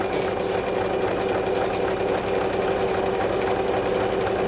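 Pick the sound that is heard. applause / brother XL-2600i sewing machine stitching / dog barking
brother XL-2600i sewing machine stitching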